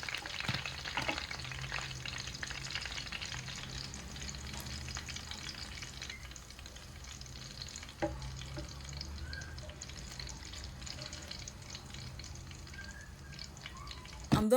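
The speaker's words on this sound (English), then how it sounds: "I'm done with frying the fish." Fish sizzles in hot oil with a soft, continuous crackle and spatter, low and fairly faint, broken now and then by a clink near the end.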